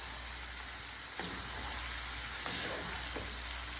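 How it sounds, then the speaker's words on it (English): Food frying in a pot sizzles steadily up close while a spoon stirs it, adding a few scraping bursts of movement over the constant hiss; no one speaks. "Then I'm gonna stir it up for a little bit."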